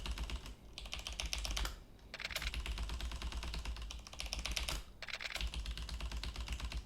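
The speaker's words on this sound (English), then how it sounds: "I'm using a keyboard and mouse." Rapid computer keyboard typing and mouse clicks during a Yakuza Kiwami playthrough on PC, a dense continuous clatter of keys with two brief pauses, close and steady throughout.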